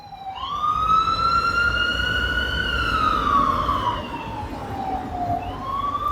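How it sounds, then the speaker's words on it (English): A loud wailing siren from a passing ambulance rises and falls in a long sweep, close by and then shifting in pitch as it moves past, over a low traffic rumble. "Ambulance, I hope you make it, whoever's in there."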